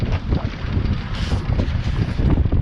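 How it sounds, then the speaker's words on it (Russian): Wind gusts across a river with steady broadband rushing and buffeting against the microphone, close and fairly loud, with no speech. "Ветерок дует, так вот будет лучше, наверное."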